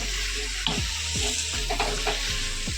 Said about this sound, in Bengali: ফুলকপিটাকে দিয়ে একটু এভাবে মশলার সাথে ভালোভাবে মিশিয়ে নিতে হবে নাড়াচাড়া দিয়ে